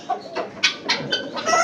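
A police cap breed chicken, a rare breed with a long beak and a cap-like crest, clucks in a rapid series of sharp, close calls, about six bursts in under two seconds, with no talking.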